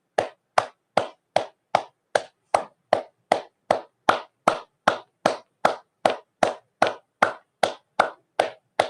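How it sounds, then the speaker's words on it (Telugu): Hands clapping loudly in a slow, even rhythm, about twenty sharp, evenly spaced claps that sound close and clear against silence. "మీకు మీరే చేతులు గట్టిగా క్లాప్స్ కొట్టుకోండి"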